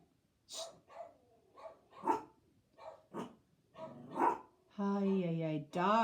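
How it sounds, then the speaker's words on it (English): Dogs bark in a string of sharp, separate yaps with short gaps between them, followed by a drawn-out tonal whine and a final bark, all fairly close and clear. "Ay, dogs."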